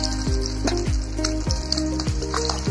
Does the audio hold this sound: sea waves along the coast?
no